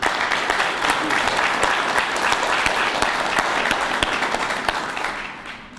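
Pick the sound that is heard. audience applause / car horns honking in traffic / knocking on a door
audience applause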